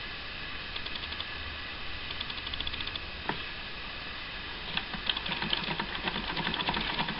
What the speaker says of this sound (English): place it in the sewing machine on the narrow side of the foot, and then sew